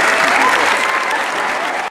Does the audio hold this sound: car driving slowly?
no